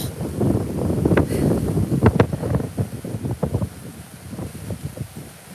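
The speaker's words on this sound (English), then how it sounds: "It's very windy out here." Strong gusty wind at a cold beach batters the microphone, a loud continuous low roar with rumbling buffets and sharp crackling bursts throughout.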